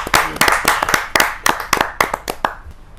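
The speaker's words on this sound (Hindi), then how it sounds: "जोरदार तालियों के साथ" An audience at a Hindi poetry gathering claps, sharp individual hand claps landing in a brisk, uneven rhythm, loud and close, tapering slightly near the end, with no speech.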